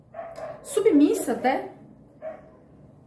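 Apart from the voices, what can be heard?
dogs barking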